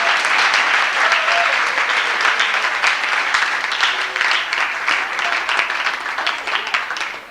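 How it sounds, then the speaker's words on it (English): Sustained applause from a sports banquet audience fills the room, loud and dense with many overlapping claps, holding steady before thinning slightly toward the end. "I think these young people need a nice round of applause."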